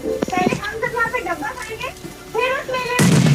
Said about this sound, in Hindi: वहाँ से भी ग्रेनेड आया, मैंने भी ग्रेनेड फेंका